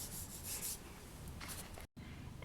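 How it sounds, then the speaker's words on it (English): Polymer clay earring burnished flat, a close, quiet, continuous rubbing and scraping against the clay that cuts off briefly before resuming, with no talking. "I am going to burnish that again until it is completely flat"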